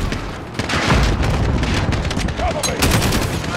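Grenade blast and rapid gunfire from Call of Duty Modern Warfare (2019), a dense continuous barrage of booms and shots with a brief shout over it.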